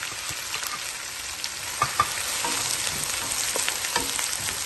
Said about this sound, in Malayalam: ഇനിയും അതിലേക്ക് അരിഞ്ഞു വെച്ചിരിക്കുന്ന ഉള്ളി, ഇഞ്ചി, വെളുത്തുള്ളി, പച്ചമുളക്, കറിവേപ്പില ഇതെല്ലാം കൂടെ ഇട്ടൊന്ന് നല്ലപോലെ വഴറ്റിയെടുക്കും.